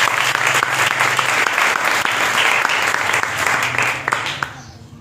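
An audience gives loud, sustained applause for a performer at a church crusade event, a thick wash of clapping that fades out near the end.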